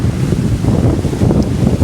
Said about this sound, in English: Look at the size of these waves, man.